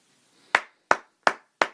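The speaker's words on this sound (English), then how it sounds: "Round of applause to myself." One person claps hands four times, sharp and crisp, close to the microphone, at a steady unhurried pace against near silence.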